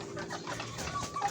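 Chickens, not native village hens, clucking faintly in a coop, a few soft, brief clucks over a quiet background.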